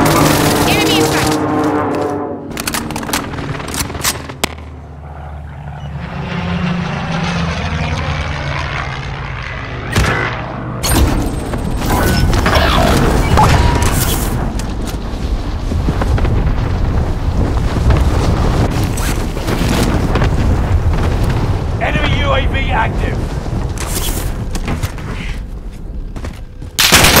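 Call of Duty Warzone precision airstrike: roaring jets sweep overhead with a rising and falling whoosh, then heavy rumbling explosions follow in a loud, dense barrage with sharp cracks.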